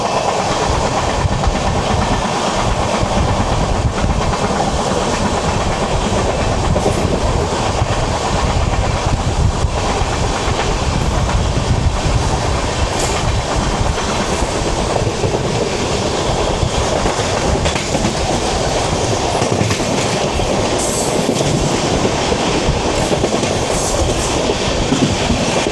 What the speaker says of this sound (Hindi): हम शायद यहाँ दूसरी ट्रेन को ओवरटेक भी मार रहे हैं